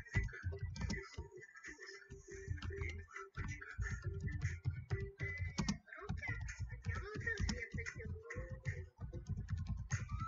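Rapid keyboard typing on a computer while filling in an online procurement tender application, with irregular bursts of close key clicks continuing throughout.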